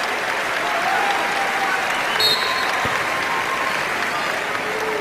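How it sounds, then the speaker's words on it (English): A basketball crowd at the Peterson Events Center applauds a departing Pittsburgh Panthers player, a steady roar of clapping throughout with an announcer talking over it. "gets a very well-deserved hand from the Peterson crowd"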